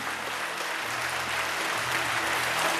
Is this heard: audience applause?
yes